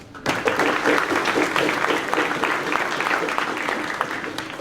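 Audience clapping at a school spring concert, a dense, steady wash of applause that starts abruptly and carries on at an even level for several seconds.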